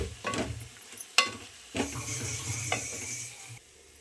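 Dried fish, already pan-roasted and washed, frying in oil in a pan for a mango and dry fish curry, giving a steady close sizzle broken by a few sharp stirring clatters, with no talk.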